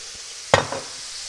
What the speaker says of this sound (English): we're gonna deglaze our pan with a little bit of wine, about a half a cup of wine or so